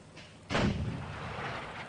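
A single heavy weapon blast erupts in the Steel Beasts Pro PE tank simulator: a loud, sharp report followed by a sustained rumbling tail, with no talk over it.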